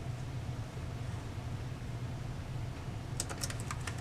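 A computer keyboard is typed on while naming channels on a mixer during concert setup: a short burst of quick, light key clicks near the end, over a steady low hum of room noise.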